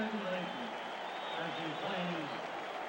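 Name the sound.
baseball stadium crowd applauding during seventh-inning stretch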